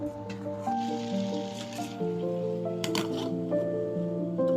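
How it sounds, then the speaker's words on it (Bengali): A spoon stirs a watery bottle gourd curry in a pan, making soft, wet squishing and sloshing sounds with a few drips, over gentle background music. "তাই আমি একটু নেড়ে আবার ঢাকা দিয়ে দেবো।"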